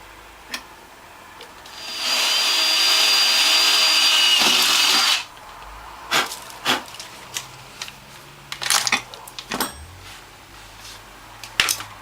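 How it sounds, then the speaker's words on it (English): A power drill whirs steadily for about three seconds drilling a hole in a metal plate for a juicer, then stops, followed by scattered light clicks and taps of handling tools. "next I'm going to tap and drill these two holes"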